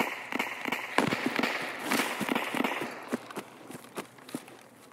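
Rapid bursts of distant gunfire in Escape From Tarkov crack in irregular volleys over a steady ambient hiss, sharp and scattered.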